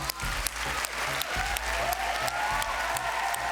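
An audience on a kids' singing stage show bursts into dense, loud applause that holds steady for a few seconds, with faint crowd noise mixed in and low music thumping underneath.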